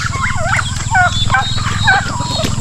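Turkeys kept indoors on a small farm gobble repeatedly in warbling bursts, close and loud over a steady low hum.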